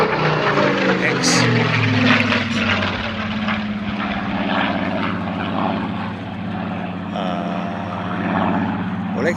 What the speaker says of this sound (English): This is part of the Rolls-Royce Heritage Collection. Spitfire Mark 14, I think.